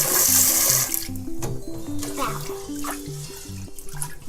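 Tap water pours steadily into a bowl for rinsing sushi rice, a close splashing rush over a soft melody in the background.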